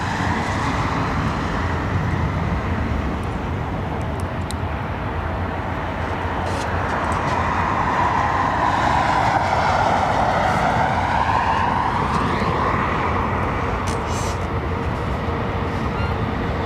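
Embraer E2 airliner at London Heathrow, a continuous broad jet engine rumble with a slowly shifting whine, moderately loud and steady, no talk over it.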